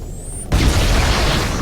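A grenade explodes in Halo CE, a sudden loud boom that cuts in after a faint high whine and then rumbles on with roaring debris noise to the end, with no voices over it.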